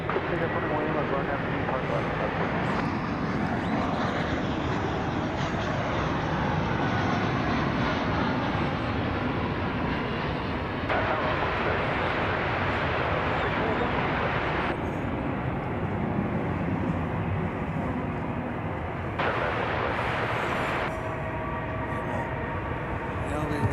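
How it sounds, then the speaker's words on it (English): An American Airlines Airbus A319 arrives at DFW Airport, its broad jet roar rumbling steadily throughout with some swells, while a voice talks over it. "That'll be an Airbus A319 as well. And it is arriving at this very moment."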